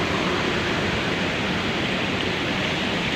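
Floodwater surges through rivers swollen by heavy rain upstream, a steady, loud, unbroken roar of rushing water with no voices.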